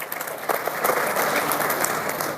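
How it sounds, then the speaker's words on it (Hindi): An audience claps together at a live gathering in India, a dense, steady burst of applause that holds evenly for a couple of seconds without speech over it. "एक बार ताली इसी बात पे बजा दीजिए"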